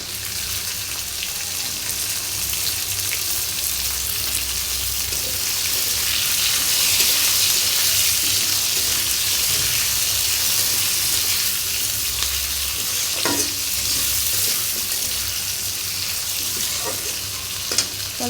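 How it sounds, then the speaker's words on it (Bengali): Potatoes already fried red in hot oil with chopped green chilies added, sizzling and crackling steadily and loudly for the whole stretch, close to the pan, with no voices. "আলুগুলো আমার লাল করে ভাজা হয়ে গেছে, এখন এর মধ্যে দিয়ে দিচ্ছি কাঁচামরিচ কুচি।"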